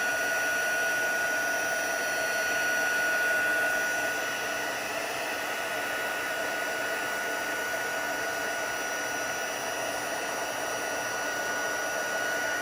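A heat gun blows steadily while melting embossing powder over a stamped impression, a continuous even airy whir close to the microphone with a slight drop in level partway through and no voices.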